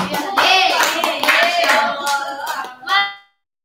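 A small audience at a school staff work meeting claps briskly together for about three seconds, then stops abruptly into silence.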